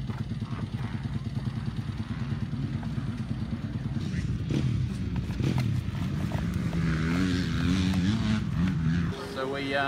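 A 2018 RMZ 450 motocross bike runs on a muddy practice track, its engine droning loudly and rising and falling as it revs, with a voice speaking over it.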